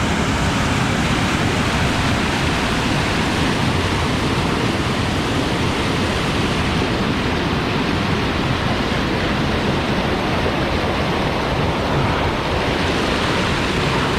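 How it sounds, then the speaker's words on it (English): A waterfall in an Ohio gorge roars as a dense, steady broadband rush of water. It is loud and close, with no talking throughout. "You can look right over the waterfall."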